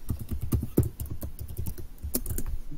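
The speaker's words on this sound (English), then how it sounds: "Typing something." Rapid typing on a computer keyboard during an online sports roundtable call: a dense run of sharp, close clicks and key taps in an uneven rhythm, fairly loud, with no talking over it.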